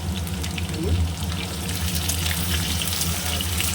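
Potatoes fry in a pan with a steady, close, dense sizzle that holds unbroken throughout, alone without talk.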